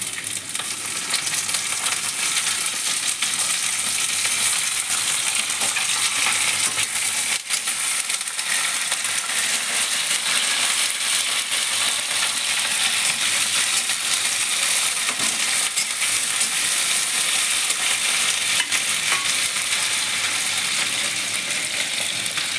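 Chopped beans dropped into hot oil with lightly fried potatoes, giving a steady, dense sizzle and crackle that carries on evenly for the whole stretch, close and fairly loud with no voices.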